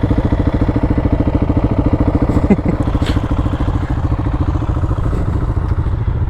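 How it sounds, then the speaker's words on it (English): Honda Africa Twin DCT motorcycle engine idling nearby, a loud steady rumbling pulse with a few faint clanks mixed in. "It looks like I'm going to take a spin on this big old bike."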